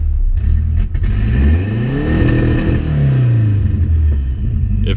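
A turbocharged, propane-fuelled rally car engine revs loud and close, climbing and falling in pitch through two strong rev sweeps over a rumbling idle with some clatter.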